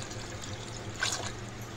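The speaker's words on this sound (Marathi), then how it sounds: "त्यामध्ये आपण अजून पाणी टाकूया।" Water is poured into a pot of crab curry in a brief splash about a second in, standing out above a low, steady kitchen hum.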